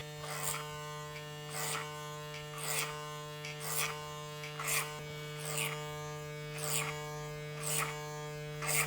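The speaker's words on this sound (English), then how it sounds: "Now I'm going to blend the number 4 in with some clipper over comb, and then I'm going to taper out the sides." Electric hair clippers buzz steadily with a constant hum, swelling in regular passes about once a second as the clipper works over a comb during a taper fade haircut, close and alone.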